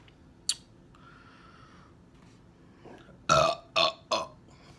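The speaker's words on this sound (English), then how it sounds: "I'm gonna try to do the burp, like swallow air." A person burps after swallowing air. Faint mouth noises lead into three loud, close belches in quick succession near the end.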